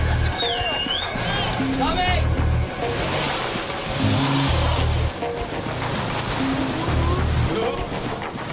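Big surf waves rolling in at a big-wave surf break, a steady wash of ocean noise with boat engine hum and bursts of wind, loud and continuous throughout.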